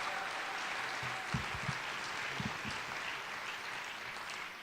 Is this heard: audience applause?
yes